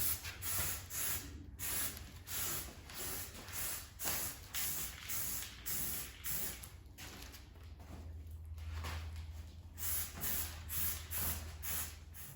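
Rubberized undercoating is sprayed from an aerosol can onto a BMW F10 535i skid plate in repeated close hissing bursts, each a few seconds long with brief gaps between them, and no one speaks.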